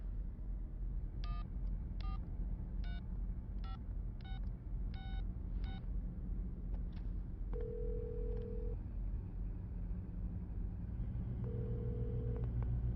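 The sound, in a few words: telephone number being dialed in Resident Evil 7 video game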